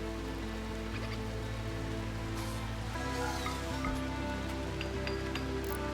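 Rain falling in a colony-building video game, a steady soft patter of drops spread evenly under a layered game music backdrop, with no talk.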